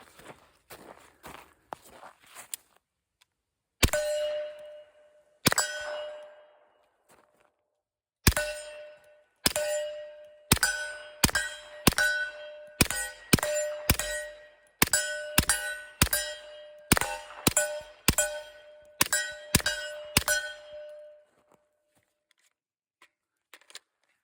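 A Stribog SP9A3S firing at steel targets: a long series of sharp gunshots, each followed by a bright metallic ring, comes in irregular bursts, some shots spaced out and others in quick strings, with quiet handling noises at the start.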